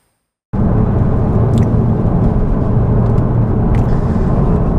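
A Porsche Boxster GTS engine starts up and pulls away, a loud, steady low rumble filling the space close by and holding throughout after a brief silence.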